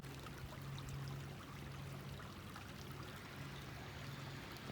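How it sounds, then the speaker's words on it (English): A small woodland stream that feeds a pond runs with a soft, continuous trickling and burbling, quiet and even throughout, with a faint low hum beneath it. "This stream feeds into a pond."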